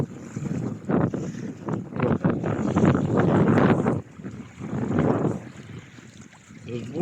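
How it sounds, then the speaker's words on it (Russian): A strong north wind gusts over a lake, rumbling and buffeting the microphone in loud, uneven surges with lapping water beneath, fading and swelling again across the clip. "Ай-яй-яй, северный такой, сугубо северный ветер."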